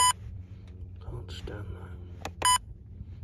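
Short electronic beeps from a wildlife trail camera's settings menu, two sharp tones at the start and end of a brief clip, with a man muttering quietly between them.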